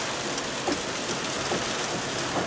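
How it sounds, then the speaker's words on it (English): Torrential rain downpour during a thunderstorm at an outdoor parkour jam in Chicago, a dense, steady roar of heavy rain close by with no talking. "This is that was a fucking torrential downpour."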